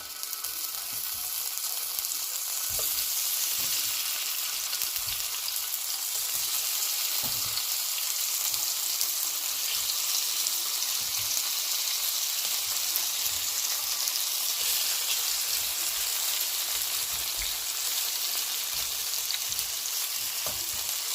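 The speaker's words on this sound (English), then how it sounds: "I had 1 tablespoon of oil to saute my shrimp" Shrimp sautéing in a tablespoon of oil for jerk shrimp sizzles with a steady, close hiss and crackle, broken by occasional soft stirring taps, no talk.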